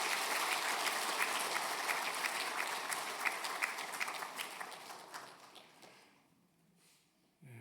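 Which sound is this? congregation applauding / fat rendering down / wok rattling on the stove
congregation applauding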